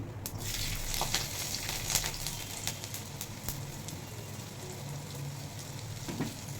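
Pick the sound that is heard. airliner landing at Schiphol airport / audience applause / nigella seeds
nigella seeds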